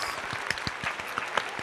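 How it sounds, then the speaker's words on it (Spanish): Applause welcomes a guest onto a Spanish-language talk show, a short burst of scattered, moderately loud hand claps with no speech. "Aplausos."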